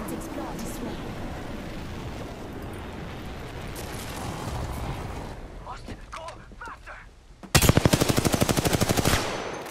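Automatic gunfire from an Apex Legends match ends in a loud, rapid burst of evenly spaced shots after scattered game noise and mixed sounds, near and dominant for about two seconds.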